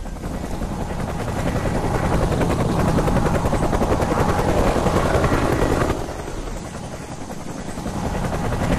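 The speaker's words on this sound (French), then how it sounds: "Attention, hélico hostile! Je parie qu'il nous cherche!" A hostile helicopter in the jungle shooter game Raven Squad, a loud, continuous rotor thump that swells as it passes close, then eases slightly as it moves off.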